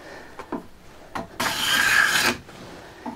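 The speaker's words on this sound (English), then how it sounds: "getting some good shavings here" A sharpened card scraper rasps across wood, peeling shavings in a few short strokes followed by one long, loud, sustained scrape, close and alone.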